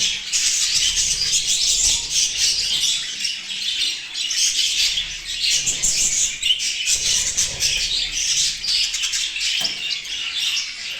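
Dense, continuous chirping and squawking from a crowd of caged pet birds and their growing chicks fills the recording, steady and fairly loud throughout with no talking.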